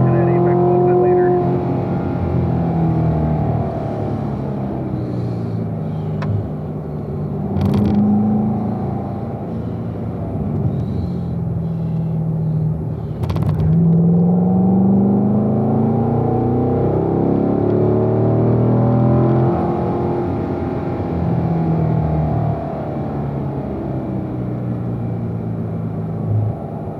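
Corvette engine on the Spring Mountain race track, a loud continuous drone rising and falling in pitch as the car slows and drops through gears, heard from inside the car under an instructor's talking.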